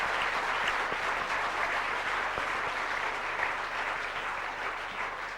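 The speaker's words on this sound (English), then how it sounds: "I think they all really deserve a round of applause for the work they've done" An awards ceremony audience gives a dense, sustained round of applause for the ushers and runners, many hands clapping steadily in a large hall and tapering slightly toward the end.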